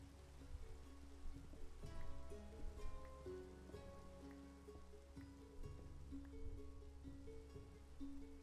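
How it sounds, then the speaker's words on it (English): Rain falling in a survival video game: soft, steady patter and wash of raindrops, faint and continuous, mixed with low ambient game music and no talking. "Oh, it's raining."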